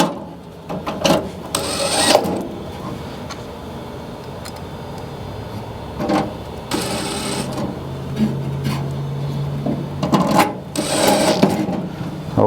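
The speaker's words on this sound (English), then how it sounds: "we can take a cordless drill with a 1/4-inch bit" A cordless drill fitted with a 1/4-inch bit drives screws while a millivolt pilot assembly is fitted on an old fireplace, giving several loud short whirring bursts separated by quieter pauses.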